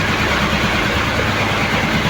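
A fishing boat's engine at sea runs in a loud, steady low drone with a rough, throbbing texture, close up and unbroken, with no voices.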